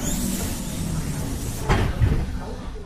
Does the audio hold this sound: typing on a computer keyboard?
no